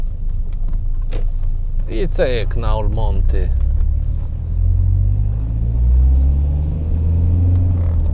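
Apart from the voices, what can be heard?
Rover 75 2.0 CDT car driving over potholes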